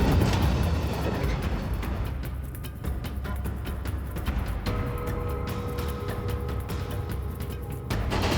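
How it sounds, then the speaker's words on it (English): In a rail yard, a shunting locomotive pushes wagons with a rolling metallic rumble and clattering clicks, and a thin sustained squeal rises midway through, all moderately close. "Shunting locomotive coming in hot."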